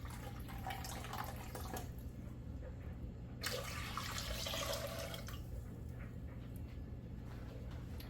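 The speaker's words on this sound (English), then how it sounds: "to that, we are going to add 2 cups of water" Water is poured into a hot pot of vinegar brine while pickling red onions, a quiet, faint splashing with bursts of running liquid and drips, heard alone without talk.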